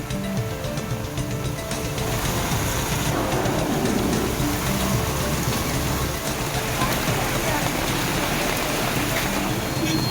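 Heavy afternoon downpour in Tamil Nadu, loud and steady, a dense wash of rain hammering surfaces close by for the whole stretch, with no voices over it.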